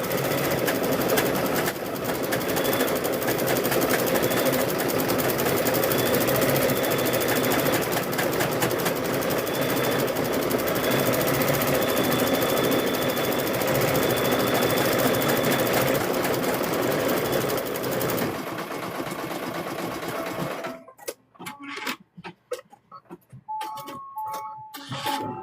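A multi-head embroidery machine stitches six Christmas ornaments at once in one thread color, running at about 15,000 stitches with a steady, loud mechanical buzz and rattle that stops abruptly near the end, leaving sparse clicks.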